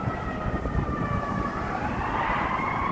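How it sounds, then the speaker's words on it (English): Emergency vehicle sirens wail along a busy Chicago street at State and Superior, a continuous rising tone over dense traffic rumble, moderately loud and steady with no talk. "Sirens, welcome to the land of sirens, Chicago, Illinois."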